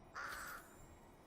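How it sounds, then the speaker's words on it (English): A crow caws once inside the Fortnite video game, with a single harsh, nasal call near the start that carries over a quiet ambient background as a storm approaches. "Shut up, bird."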